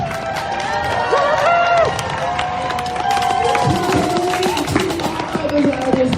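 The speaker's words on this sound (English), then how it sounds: "give yourself a round of applause." A crowd at a street protest cheers and shouts, with a continuous loud roar of voices and some clapping mixed in throughout.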